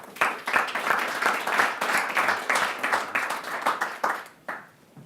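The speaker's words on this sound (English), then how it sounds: "Please join me in a round of applause to welcome all of our panelists here today." Audience applause welcomes panelists at an industry panel session, a steady burst of clapping from a modest crowd that thins and fades toward the end.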